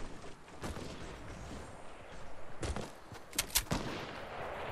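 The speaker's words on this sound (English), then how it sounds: "watch out, we're getting sniped" Sniper rifle shots ring out in a Fortnite match, several sharp cracks with echoing tails, one early, then a tight cluster near the end, all over a dense, noisy game background.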